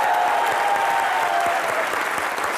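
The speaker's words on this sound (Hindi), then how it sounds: "जोरदार तालियां बनती हैं" A TV comedy show studio audience breaks into loud, continuous applause honoring cricketer Kris Srikkanth, a thick wash of many hands clapping at once that holds steady and close without any speech.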